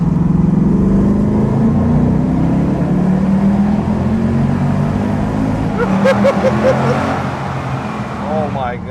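Close and loud, a Ford Mustang GT V8 roars steadily as it accelerates through a tunnel, with the engine droning low and rising in pitch, and a voice is heard briefly near the end.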